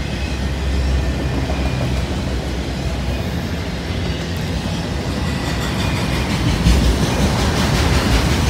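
A freight train hauling loaded auto racks rolls past close by, a loud continuous rumble and rattle of railcars with faint clickety-clack from the wheels, sustained throughout.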